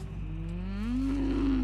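A cow gives a single drawn-out moo that rises in pitch partway through, fairly faint over a steady low background hum.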